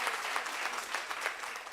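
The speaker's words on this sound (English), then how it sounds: "Please may I ask for another round of applause for Professor now." Audience at a Women's Month event clapping for a professor, a steady, moderately loud burst of applause lasting under two seconds with no voices over it.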